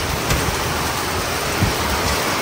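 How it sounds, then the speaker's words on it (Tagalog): Heavy rain pours down steadily during a sudden downpour, with strong wind and a couple of soft low thumps, close and continuous. "Grabe, lakas ng ulan. Lakas ng hangin."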